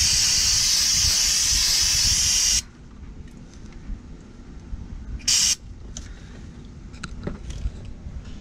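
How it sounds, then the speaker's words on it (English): Brake cleaner hisses out of an aerosol can in a loud, steady spray for a few seconds under a Chevy Cruze, then cuts off and returns in one short burst amid quiet garage clatter. "Then use some brake clean to clean up the area."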